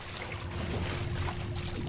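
Trickling, splashing water at a village well in the fantasy game Dragon Age Inquisition, a steady watery wash with a low rumble beneath, fairly close and unbroken, no talk.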